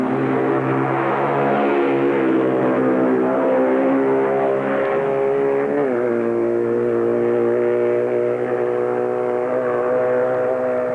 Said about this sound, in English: And here at Union Mills is the BMW outfit of Pip Harris